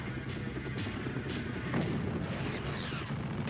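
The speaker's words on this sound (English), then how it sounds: "Choose a weapon and fire." Rapid weapon fire from a flying gunboat helicopter strikes ground targets in a combat video game, a dense run of blasts and impacts over a steady low rumble, loud and continuous, with a heavier hit near the middle.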